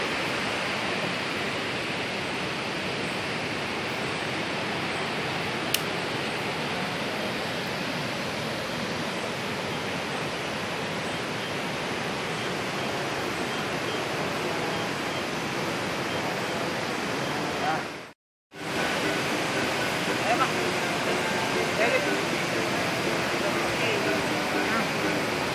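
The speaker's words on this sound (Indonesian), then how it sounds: "Ini ada air sungai ya." Steady broadband rush of river water flowing beneath a ravine on a rough road, continuous and loud, with a brief dropout near the end.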